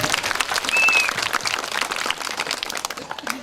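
Applause and clapping from a crowd at a Balinese comedy show, fairly loud and continuous, with a brief whistle-like tone near the start.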